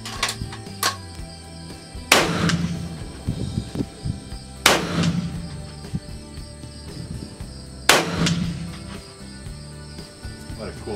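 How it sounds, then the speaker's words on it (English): A custom precision Mauser rifle with a floated barrel fires 95 grain Hornady SST rounds: three sharp, loud cracks spaced a few seconds apart, each with a brief echoing decay, while crickets chirp steadily in the background. "now I'm gonna try the 95 grain Hornaday SSTs"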